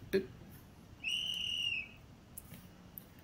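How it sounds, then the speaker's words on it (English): A single faint, thin whistle tone holds steady for under a second against quiet background hiss, with a soft click before it. "Another quiet sound effect with the whistle there."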